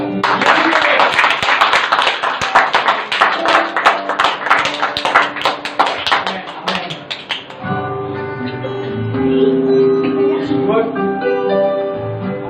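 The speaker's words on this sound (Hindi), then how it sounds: "तो एक बार जोरदार तालियां" A church congregation claps loudly in rapid bursts for several seconds, then the clapping gives way to music with sustained tones.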